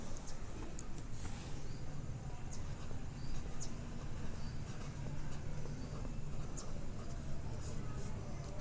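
Marker or chalk writing out disease symptoms on a classroom board, a steady soft scratching and tapping that runs throughout at close range, with no voice over it.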